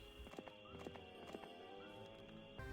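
Hero's horse hooves clip-clopping across the adventure map in Heroes III, with a whinny or neigh mixed in, steady mid-level clopping under a sustained musical drone, then a heavier thud near the end.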